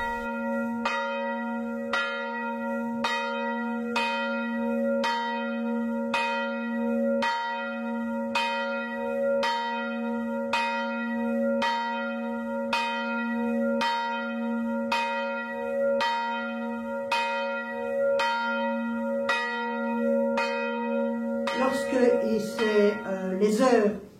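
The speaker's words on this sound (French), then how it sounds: "C'est le marteau qui cogne les heures et les demi-heures." A church tower bell in the bell chamber under the roof, struck by a hammer: a steady series of about twenty evenly spaced ringing strikes, each leaving a humming resonance, close and loud, ending in a jumble of clanks.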